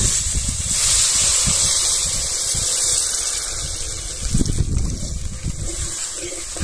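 Water poured into spice paste frying in a pan until its oil separates, for a poppy-seed bhetki fish curry; a steady, close gushing hiss runs throughout.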